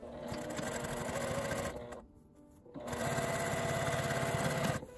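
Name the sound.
sewing machine stitching a bag opening closed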